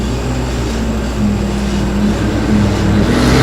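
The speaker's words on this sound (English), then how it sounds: "nice big loud car went by" A loud car drives past outside during a coffee roast of Yemen Red Marquaha, a rising and falling engine rumble over a steady low roaster drone, fairly near, with no talking.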